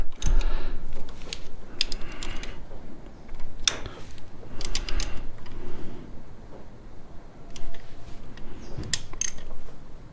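M6 bolts on a Suzuki V-Strom DL650 coolant pump tightened by hand with a ratchet, giving bursts of close clicking that start and stop over a low background, with no speech.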